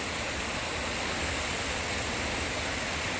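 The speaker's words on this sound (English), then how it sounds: "There's so many waterfalls here." A waterfall in a gorge, a dense steady roar of falling water that fills the clip at a constant level with no voices.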